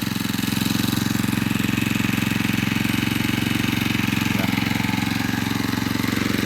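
A grass cutter engine idles steadily right after being started, giving a close, constant, even mechanical putter with a regular rapid pulse and no revving.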